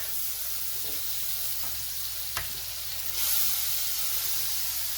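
Food sizzles steadily on a hot griddle, a dense, even frying hiss that holds throughout, with one sharp tick partway and a slightly louder surge of sizzle near the end; no one speaks.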